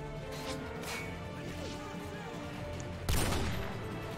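Gunfire from the video game Call of Duty: Modern Warfare 2 sounds through a muffled game mix: soft repeated shot bursts, then one loud close blast near the end that fades over a second.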